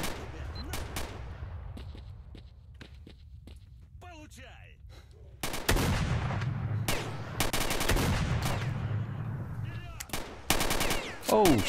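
Gunfire in the shooter game STALKER Shadow of Chornobyl, with quieter scattered shots early and then loud, close blasts and rapid bursts, under a player talking in between.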